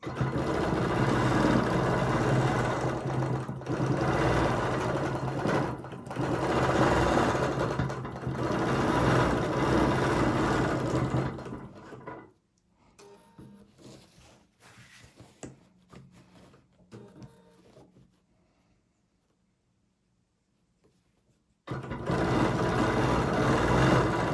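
A sewing machine stitches a quilt design, running in steady bursts for about twelve seconds, then falling to quiet, scattered clicks and handling noise before the motor starts up again loudly near the end.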